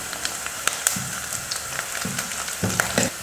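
Onions and curry leaves fry in hot oil, a dense crackling sizzle with occasional sharper pops and a few soft stirring scrapes, steady and close.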